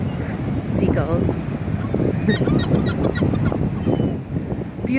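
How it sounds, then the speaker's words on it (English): Seagulls give harsh, honking calls repeatedly over steady wind noise at a beach at low tide, with a person talking at times beneath them. "Seagulls."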